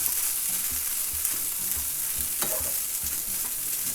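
Curry noodles with chicken stir frying in a hot pan, a dense, bright sizzle with light clicks and one sharper scrape of tongs, close and steady without speech.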